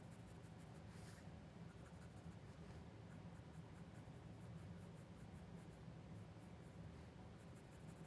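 Colored pencil moving loosely across paper while shading a cartoon Santa with light brown and orange, a steady soft scratchy rasp of strokes running continuously and close.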